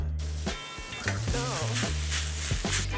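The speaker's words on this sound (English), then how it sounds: "So this is the onion, which is sliced, and then we just fry it until it gets transparent, like this." Sliced onion frying in a pan, sizzling steadily as a soft hiss beneath louder music with singing that runs the whole time.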